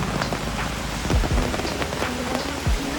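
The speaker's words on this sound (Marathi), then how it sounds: "मोठाच पाऊस आहे." Heavy rain falls steadily in dense forest, a dense hiss of drops pattering on surfaces close by, with a few low rumbles underneath.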